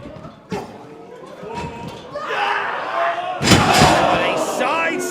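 A wrestler is driven down with a side slam onto the ring during a hardcore intergender match, a loud booming impact followed by a swelling crowd roar and a commentator talking over it.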